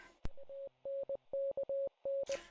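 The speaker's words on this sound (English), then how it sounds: "A little bit of Morse code in there." Steady Morse code beeps from a single mid-pitched tone, keyed as a quick run of short dots and longer dashes, clear and fairly quiet against silence and preceded by a sharp click.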